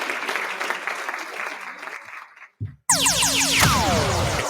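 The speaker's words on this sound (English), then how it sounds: "Can we get a round of applause for her?" A crowd claps for a couple of seconds on a live safety talk show, then fades into a brief gap before a loud burst of music or a sound effect with sweeping tones.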